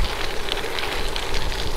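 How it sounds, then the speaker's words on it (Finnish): Rain falls during a gravel bike race near Lahti, Finland, a steady close hiss of drops that runs unbroken from start to finish, with no voices. "No niin, sade."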